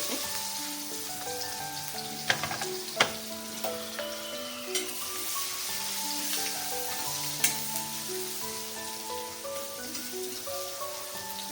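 Large onions and masala-coated fish sizzle in a pan for kolambiche lipte, a soft continuous frying hiss with a few sharp pops and clicks, over faint background music and no talking.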